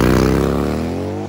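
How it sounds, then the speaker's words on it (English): Harley-Davidson FLH bagger motorcycle on a drag strip at Keystone Raceway, a loud, close engine roar sweeping upward as it accelerates hard, then cutting off abruptly. "Andy Simon looking for the first FLH 7-second Harley Davidson Bagger run"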